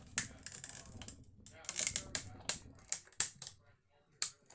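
A plastic acetate sheet crackling as it is pressed through a die-cutting machine inside a plate sandwich: a close run of sharp, irregular snaps and crackles, some in quick clusters, with short quiet gaps between them.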